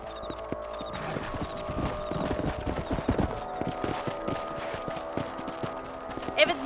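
Horse hooves clip-clopping at a steady trot through a Red Dead Redemption ranch scene, close and fairly loud, with a brief whinny near the end and game music beneath.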